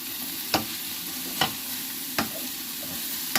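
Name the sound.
bacon, mushroom, garlic and onion frying in pan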